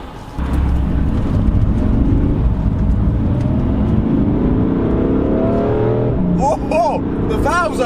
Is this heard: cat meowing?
no